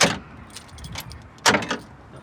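Car keys jangle in short bursts beside a Rover 25 during a fit of electric mirrors, with a brief shake at the start, another around the middle and a louder rattle near the end, close by and with no talk.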